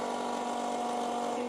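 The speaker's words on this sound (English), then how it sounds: "So that sound you hear is actually the filter, that fuel filter filling up with fuel." Diesel fills a tractor's fuel filter, fed by an electric transfer tank pump: a steady, even mechanical whir with a constant hum, moderately loud and unbroken throughout.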